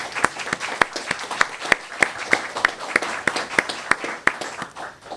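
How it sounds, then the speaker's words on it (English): A small audience claps for the Salvation Army at a city press event, a thin patter of hands with a few loud, evenly spaced claps standing out near the microphone. "Please, give it up to the Salvation Army."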